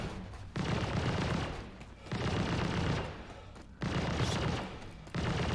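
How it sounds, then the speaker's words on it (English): Sustained bursts of automatic gunfire strike a ship in the space game Star Citizen, coming in loud rapid volleys with brief pauses between them, and no talking over it. "they're shooting at us."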